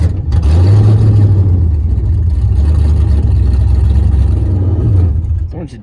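A HEMI V8 Dodge Dakota pickup drives and shifts gears. The loud, close engine drone rises and falls in pitch between shifts, and voices talk over it.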